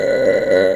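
A long, loud, sustained burp from a woman streaming live, a steady throaty eructation lasting nearly a second with no talk over it.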